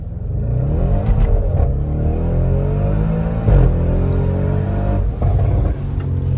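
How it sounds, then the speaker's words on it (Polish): An Audi RS6 tuned to 740 hp launches from a standstill on a cold day around minus six, its engine roaring loudly and climbing through revs with audible gear changes, close and alone without talk. "Przyspieszenie od zera."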